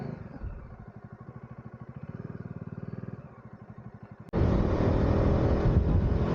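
Motorcycle ridden on the highway from Ooty toward Bengaluru, crossing into Karnataka, with an engine rumbling and pulsing steadily at close range, then a sudden burst of loud wind rush that swamps the engine for the final seconds.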